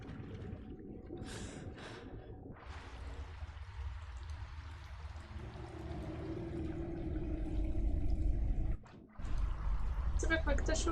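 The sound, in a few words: rain falling inside a cave in the video game Skyrim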